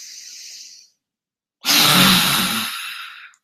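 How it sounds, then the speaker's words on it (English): A slow, deep inhale for an Ayurvedic dragon's breath exercise, then a pause and a long, forceful, breathy exhale close to the microphone. "to do the dragon's breath, you just take a deep breath in"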